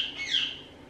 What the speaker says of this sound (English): The birds are being so, so noisy today.